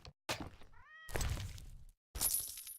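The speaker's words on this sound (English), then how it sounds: "You hear that? That was a cat." A cat meows in The Witcher video game, one short, clear tonal meow set between brief bursts of other game sounds.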